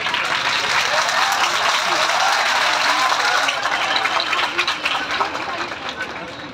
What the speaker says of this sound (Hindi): छात्रों की गड़गड़ाहट ये ताली की कुछ और कहानी है।